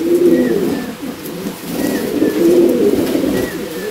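Pigeons kept for long endurance flights coo steadily, a continuous near chorus of low rolling calls from several birds with no pauses.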